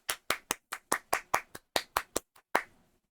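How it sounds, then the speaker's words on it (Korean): One person claps alone on a live stream, about a dozen sharp, close hand claps in a fairly steady rhythm with a short pause before the last one, with no talk over them. "박수"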